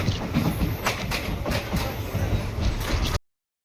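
A train rolls across the new Pamban railway bridge, its wheels clattering in a loud, steady rumble with rhythmic clicks and a faint squeal that runs unbroken, then cuts off abruptly.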